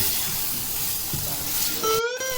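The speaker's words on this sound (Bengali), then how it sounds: "কষানো চলছে।" Frozen peas and masala sauté in a pan with a steady, close sizzling hiss, and a brief clatter of stirring near the end.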